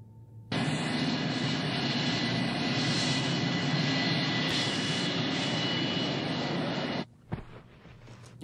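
A loud, close aircraft engine runs with a steady broadband roar before takeoff, holding level for several seconds before cutting off abruptly, followed by a few faint clunks.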